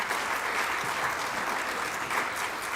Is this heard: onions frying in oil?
no